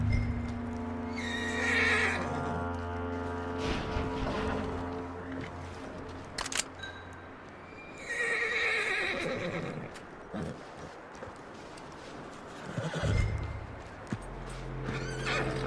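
A horse in Red Dead Redemption 2 whinnies loudly several times, with hooves clopping and stamping nearby between the calls, over a low rumbling background.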